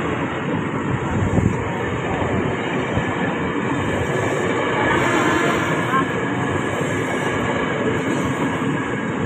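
A long Indonesian KRL commuter train rumbles past nearby, a loud sustained roar of wheels and carriages, with people talking faintly in the background.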